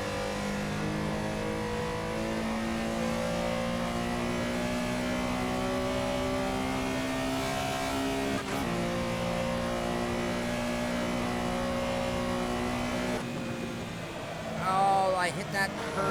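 A Porsche Carrera SR engine drones steadily at high revs in Assetto Corsa at Spa-Francorchamps, loud and sustained with harmonic engine tones, then briefly drops in pitch as the throttle changes near the end.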